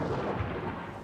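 Thunder from a lightning storm rolls as a low, continuous rumble, soft and distant, without any sharp crack over its short span.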